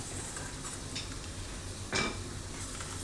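A spoon mixes spices for amla pickle in a pot: soft scraping under a quiet background, then one sharp metallic clink of the spoon against the pot near the end.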